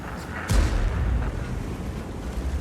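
A heavy tank cannon fires once in an online tank battle game, a sudden loud low boom followed by a rumbling decay, with the game's ambient battle noise continuing underneath.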